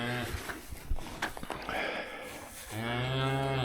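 A cow beside her newborn heifer calf lets out a loud, close moo at the start and again in the final second, with scuffling, rustling and thumps in between.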